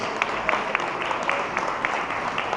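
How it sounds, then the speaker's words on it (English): Audience applause for a blues band performing at a live show, a steady spread of many hands clapping at moderate distance with a few sharper claps standing out. "A big round of applause, please."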